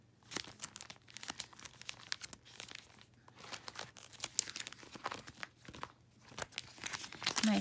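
A Christmas sticker binder being pulled out and its sticker sheets handled, close crinkling and rustling of plastic sleeves and paper in uneven bursts, fairly quiet, with no talking.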